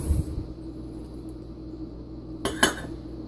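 Ingredients for a chicken snack are dumped into a bowl, with a soft thud near the start and a couple of sharp clinks of utensil against the container near the end over quiet background hum.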